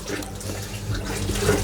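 Water being pumped out of the top of a septic treatment station, a steady rushing, gurgling flow heard close and continuous, with no speech.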